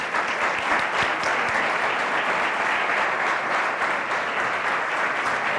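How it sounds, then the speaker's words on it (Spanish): An audience at a science week event in Asturias applauds steadily to welcome a Google innovation director onto the stage, a dense, continuous clapping that holds at an even level throughout without voices. "Le recibimos con un fuerte aplauso."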